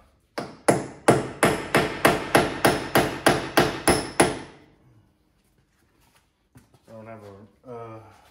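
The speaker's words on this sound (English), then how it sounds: "I'm gonna try to break it loose with this little punch" A hammer drives a small punch to break loose a part on a weak blade of a Takeuchi TB53FR dozer: about a dozen sharp metallic strikes in quick even rhythm, then a pause before someone speaks.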